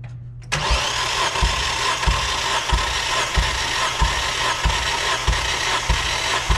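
A Mazda Miata NB engine cranks on the starter during a compression test, with rhythmic chugging pulses about three per second after the starter engages, steady and close, with no ignition catching.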